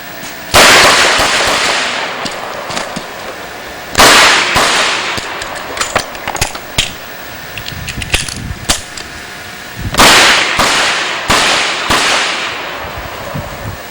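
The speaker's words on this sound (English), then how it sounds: "going to shoot through one time with a revolver" Revolver fired at targets in a shooting demonstration at the Wilson Combat factory: three loud, sharp reports spaced several seconds apart, each followed by smaller, quieter pops and clatter.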